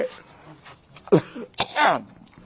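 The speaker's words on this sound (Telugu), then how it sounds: "అంత దగ్గు వస్తుంది" A couple of harsh, close coughs break out between quieter murmuring, the second one longer and raspier.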